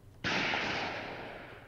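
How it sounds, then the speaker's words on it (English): A single sharp gunshot from the visual novel CHAOS;HEAD NOAH, one sudden crack followed by a long, slowly fading echoing tail. "I hear gunshots."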